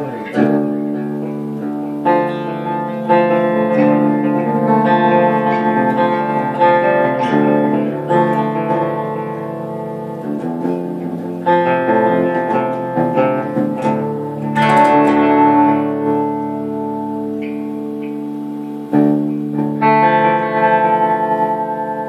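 Jackson JS32 Dinky Archtop electric guitar played through a distortion channel, first on the bridge pickup: sustained, heavily overdriven chords and ringing notes with reverb, strummed at a moderate pace and left to decay between hits.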